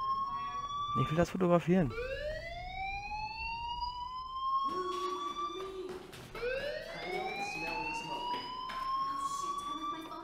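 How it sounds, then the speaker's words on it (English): A fire alarm in the video game Life is Strange rings loudly in repeated rising, siren-like sweeps that stop briefly and start again, while a person speaks over the start. "Hey, do you hear that fire alarm?"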